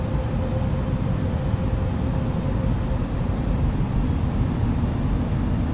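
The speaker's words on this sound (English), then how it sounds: "You can hear the engines working there." Airliner engines on approach in Microsoft Flight Simulator, a steady, dense low roar with a faint whine, continuous and unbroken in gusty crosswind conditions.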